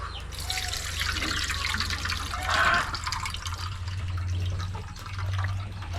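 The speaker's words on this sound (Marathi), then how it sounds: "आता आपल्याला ह्याच्यातलं पाणी काढून टाकायचं आहे" Soaking water drains off soaked rice, urad dal and fenugreek seeds ready for Konkan-style amboli batter, with a steady splashing, trickling pour that swells briefly partway through and runs continuously without talk.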